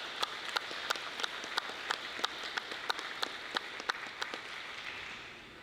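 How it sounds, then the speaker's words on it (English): Audience applauding at a military troop command change of responsibility ceremony, a steady patter of many hands clapping from a moderate distance, with a few sharper individual claps standing out before it fades. "Please give them a round of applause."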